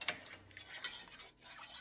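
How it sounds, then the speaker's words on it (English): A spoon stirring cocoa and sugar into coffee in a pot, light metallic clinks and scraping strokes in a quiet, close rhythm with a brief pause near the end. "I'm stirring to make sure all the lumps from the cocoa is out and the sugar's dissolved"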